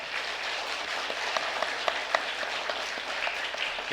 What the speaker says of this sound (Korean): 인사할 때 큰 박수로 환영해 주시기 바랍니다.